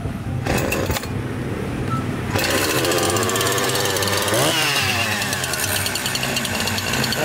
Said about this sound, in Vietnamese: các bạn có thể thấy tiếng cưa hàng xịn, nghe nó tiếng rất là giòn